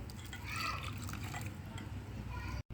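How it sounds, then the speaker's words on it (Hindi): Chilled water is poured from a jar into raw mango aam panna drink, making a steady, close liquid splashing and trickling that runs for a couple of seconds before stopping. "अब इसमें जो हम पानी ऐड करेंगे, चिल वाटर ऐड करेंगे जिस जार में हमने बनाया था उसी जार से"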